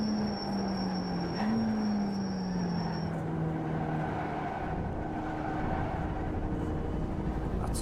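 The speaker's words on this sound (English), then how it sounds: "sound of a rumble strip." Race car in the iRacing simulator running along a track edge over a rumble strip, a steady engine drone with a continuous rough vibrating rattle underneath, loud and close throughout.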